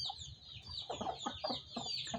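Aseel chickens cluck in a quick run of short, soft bursts, nearby, with higher chirping calls running underneath.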